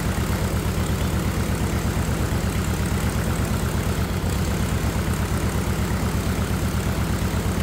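A light aircraft engine runs steadily at 1,000 RPM before its run-up, a loud, even low throb with a fast regular pulse that holds unchanged from start to finish, with no voices.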